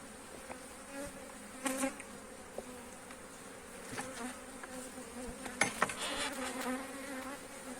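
A steady, soft drone of many honeybees buzzing on hive frames close by, with occasional louder individual buzzes and faint clicks, no voices.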